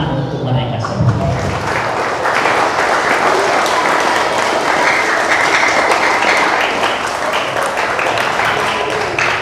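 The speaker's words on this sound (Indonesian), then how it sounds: "Tepuk tangan untuk mereka semua." Dense, sustained applause from an audience gathered at a mosque for a Maulid Nabi religious assembly, loud and steady throughout with a brief voice at the very start.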